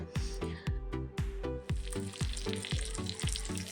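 Potatoes go into a duck curry frying in separated oil, and a loud, close sizzle pulses under repeated stirring strokes in a steady rhythm, with no voices.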